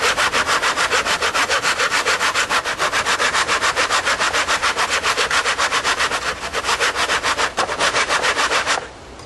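A handsaw cuts exterior wood trim held in a plastic miter box, making loud, close, rhythmic rasping back-and-forth strokes that run steadily for about nine seconds before stopping abruptly.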